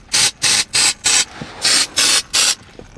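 An aerosol can of fart spray gives seven short, sharp hissing bursts close to the mic. The bursts come in two quick groups of four and three, with brief pauses between them.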